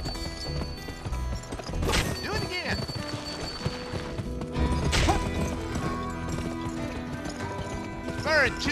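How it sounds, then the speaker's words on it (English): Horse hooves clip-clop at a quick gallop amid music and effects from the video game GUN, with a brief whinny and a sharp crash partway through. "Press the sprint button to spur your horse."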